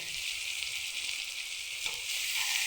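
Tomato goes into a pan of cumin powder, chili and ginger paste frying in oil, giving a steady, loud hiss with a brief clack of the spoon near the end.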